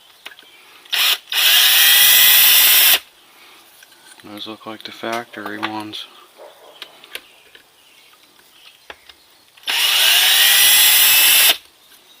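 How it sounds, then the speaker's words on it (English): Two loud bursts of a power drill spinning out clutch bolts on a Yamaha Blaster bottom end, one near the start and one near the end, with a person speaking briefly in between. "good old drill"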